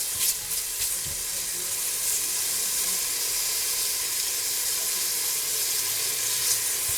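Food browning in a hot pan for a home Sunday dinner, a steady, even sizzle and hiss of frying that holds constant throughout, with no voices.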